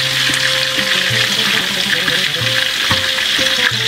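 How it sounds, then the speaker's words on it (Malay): Chicken frying in hot oil for a spicy red-sauce ayam masak merah, a steady loud sizzle with bubbling crackle and faint kitchen clinks running throughout, no voices. "sambil-sambil tu kita akan gorengkan kita punya ayam"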